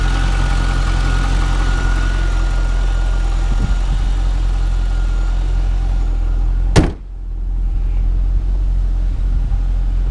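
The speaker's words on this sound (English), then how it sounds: "Just a great smooth running engine." A 2000 Chevrolet Corvette C5 V8 idles with a deep, steady rumble, interrupted by a single sharp thud like a door closing before the idle continues.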